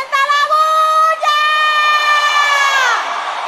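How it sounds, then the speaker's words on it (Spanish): A crowd of fans at a live backstage show cheers, whoops and shouts in a loud, sustained roar with high-pitched voices ringing out, easing off slightly near the end. "¡Que se sienta la bulla!"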